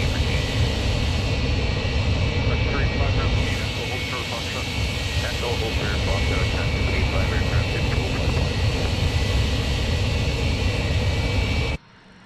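Twin jet engines of an MD-83 run while taxiing on a slippery, glycol-covered surface, a loud, steady whine and roar under ongoing talk that cuts off abruptly near the end.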